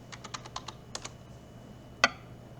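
Password typed on a computer keyboard: a quick burst of about ten light, close key taps, then a short pause and one sharper, louder keystroke, like pressing Enter, in a quiet room.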